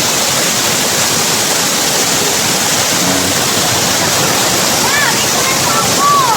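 Tagbibinta Falls, a 120 ft waterfall, roars as a steady, dense broadband rush of falling water, continuous and close throughout with no pauses, with faint higher chirps flickering briefly near the end.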